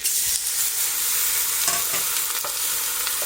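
Beef hits a hot pot and stir-fries with a loud, steady hiss, broken by a few quick scraping stirs close by.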